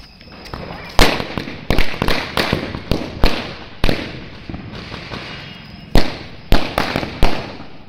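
Diwali firecrackers burst one after another outdoors, a series of sharp, loud bangs spaced roughly half a second to a second apart, some with crackling tails.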